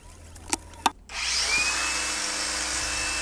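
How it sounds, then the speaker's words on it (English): An angle grinder cutting a metal part of a pop-up chair hide, starting after two sharp clicks, then a loud steady high whine that holds close and continuous to the end. "so I reverted to the angle grinder"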